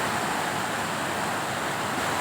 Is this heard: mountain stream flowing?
yes